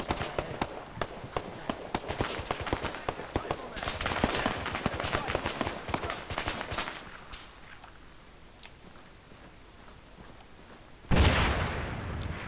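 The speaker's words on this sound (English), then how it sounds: "It sounds like there's still a hell of a lot of combat going on." Gunfire and combat in the military video game ARMA 3 during an urban operation on Tanoa: dense cracks of rifle and machine-gun fire for several seconds, then a quieter stretch of distant shots, ending in a sudden loud burst.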